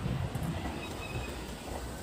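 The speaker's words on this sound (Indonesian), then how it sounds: "sudah lewat keretanya" A long freight train carrying containers and goods rolls past with a steady rumble and rail noise and a faint squeal, heard at close range with no talk.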